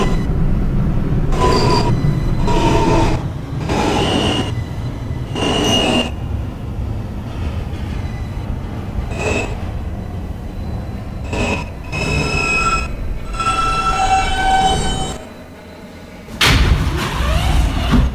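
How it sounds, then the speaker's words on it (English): A Queens-bound New York subway F train runs with a steady loud rumble, wheels clattering over joints and brief squeals, a chime-like tone sequence near the end before the roar swells again; no talking. "This is a Queens-bound F train."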